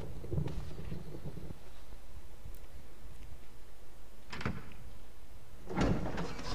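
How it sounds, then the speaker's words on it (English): Doors opening in the Resident Evil video game, a rumbling slide at the start followed by two separate creaking, clattering bursts later on, set against a low steady background hum. "Some really jazzy doors in this game."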